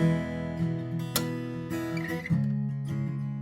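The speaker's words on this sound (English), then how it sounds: "it's also easier with this approach to learn something called a thumb slap and strum" An acoustic guitar is played with a thumb slap and strum technique, ringing chords broken by percussive slaps in a steady rhythm, close and clear with no talking.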